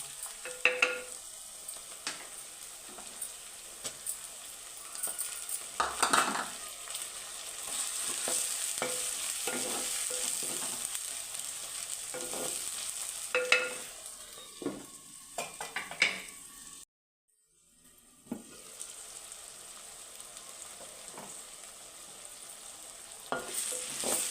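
Onion and tomato sautéing in a pan for a pumpkin masala curry: a steady sizzle punctuated by frequent spoon scrapes and clinks, a brief silent gap midway, then sizzling and stirring resume, close and without talk.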